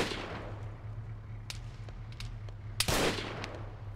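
Gunfire in the video game Arma 3, with a few sharp distant shots and one louder close crack, over a steady low engine hum.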